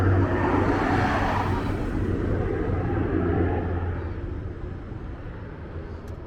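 Airplane climbing out after takeoff from Toronto Billy Bishop Airport, a steady broad roaring rumble heard from a distance outdoors that slowly fades away.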